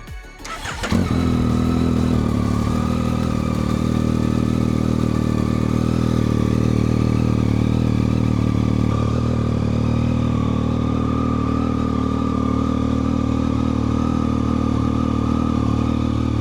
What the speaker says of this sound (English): I'm going to start the bike, let it cycle through and get the oil through